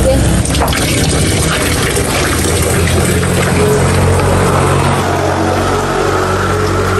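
Water pours steadily into a container in a home kitchen while snacks are being cooked, a loud, continuous gushing rush that lasts the whole time.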